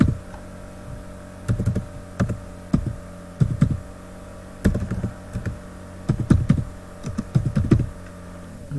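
Bursts of keystrokes on a computer keyboard, clicky and close, come in short irregular clusters with pauses between them as a command is typed.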